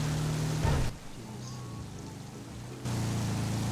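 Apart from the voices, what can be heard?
rain falling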